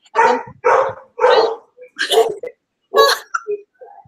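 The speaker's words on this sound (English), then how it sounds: "Dogs are barking." Several dogs bark in a rapid run of sharp, loud yelps, a few close together followed by scattered shorter barks, with no talk over them.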